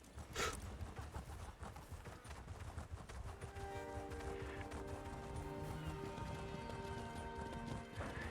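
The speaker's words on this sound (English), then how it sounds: "Oh, look, a little horse." Horse hooves in the video game Elder Scrolls Online (Thieves Guild DLC) clip-clop at a steady trotting rhythm, faint and somewhat distant, while a soft sustained musical tone rises underneath.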